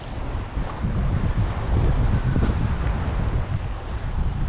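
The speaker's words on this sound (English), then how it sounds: "It's so cold up here and windy because we're right next to the lake" Cold wind blows off Lake Superior at the end of the road in Grand Marais, Minnesota, a loud continuous gusting roar that swells mid-way and buffets the microphone.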